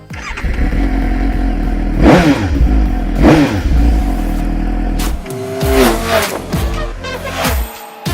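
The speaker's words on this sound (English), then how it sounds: "I'll thumb the starter for you. Listen to that sound." A Suzuki GSX-S750 inline-four motorcycle engine fires up and revs hard several times, loud and close, with a rough mechanical clatter between the throttle blips.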